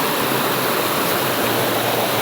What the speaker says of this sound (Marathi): हा बघा मस्तपैकी तिकडनं झाडा झुडपातनं येतोय ओढा वाईत